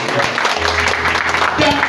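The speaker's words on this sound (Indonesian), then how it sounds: "Berikan sorak-sorai yang meriah bagi kemuliaan." Church congregation clapping and cheering in a lively burst while a voice talks over the applause.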